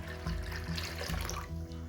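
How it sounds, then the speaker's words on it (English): Hot water poured into a container of more water, a steady splashing, gurgling pour with a low rhythmic pulse running throughout, close and continuous. "And now we pour this hot water into the rest of the water."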